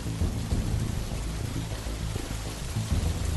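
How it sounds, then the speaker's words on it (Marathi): Heavy rain pours down steadily with low rolling thunder rumbling beneath it, a loud dense storm wash filling the scene without any voices. "जोरदार पावसाने नदीला पूर आला होता"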